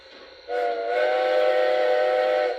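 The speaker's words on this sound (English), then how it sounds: "90's whistle is on the Moguls." A steady, multi-toned steam whistle from a model Mogul steam locomotive sounds close by, holding for about two seconds over a faint mechanical hum.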